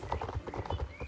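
Steady clip-clop of horse hooves as a horse is ridden in the video game Star Stable Online, an even and fairly close rhythm of hoofbeats with no voices over it.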